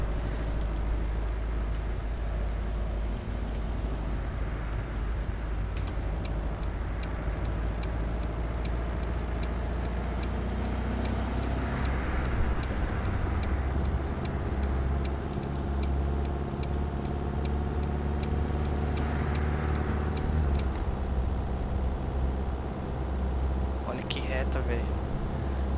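Toyota Corolla 2019 cruising in Euro Truck Simulator 2, with a steady engine drone and road rumble throughout, a rhythmic ticking like a turn signal partway through, and people talking over it.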